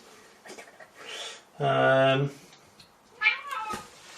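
A house cat meows loudly and close up, one long drawn-out call followed by a shorter rising meow, set among quiet background noise during a home porter brewing setup.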